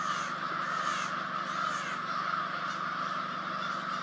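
A large flock of crows caws continuously from trees in Maine, a dense, steady din of overlapping harsh calls filling the whole stretch without pause.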